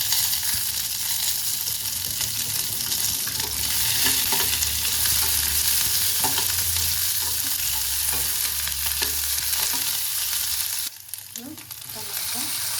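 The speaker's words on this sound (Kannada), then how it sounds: "ಇವಾಗ ಫಸ್ಟು ಉಳ್ಳಾಗಡ್ಡಿ ಹಾಕ್ಕೊಳ್ತೀನಿ. ಇದನ್ನು ಸಣ್ಣದು ಉಳ್ಳಾಗಡ್ಡಿ ತೊಗೊಂಡಿದ್ದೀನಿ." Small onions frying in hot oil in a pan, a steady loud sizzle with a spoon stirring and scraping through it, the hiss briefly dropping near the end.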